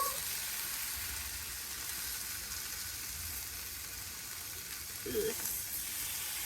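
Canadian bacon frying in a preheated cast iron pan gives a steady, moderate sizzle and hiss throughout, with a brief stir or clatter near the end and no talking.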